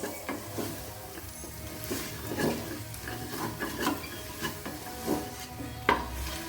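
Garam masala is stirred in a pan for chicken biryani, with a low steady sizzle under irregular wooden-spoon scrapes and knocks against the pan, close and moderately quiet.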